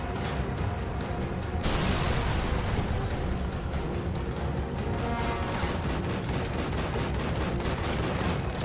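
Pistol gunfire in The Evil Within video game, a fairly quiet but steady stream of rapid, repeated sharp shots and echoing blasts running without pause.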